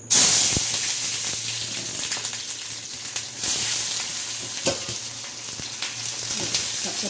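Onion and tomato fry in hot oil on a stove, giving a loud, continuous hissing sizzle that starts abruptly and holds steady with small crackles throughout.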